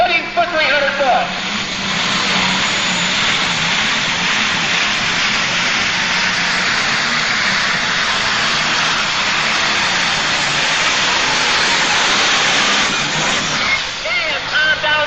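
A roaring, sustained engine from an International 3688 tractor making a pull at a Super Stock tractor pull in Ionia, Michigan, loud and continuous, with an announcer talking over it at times.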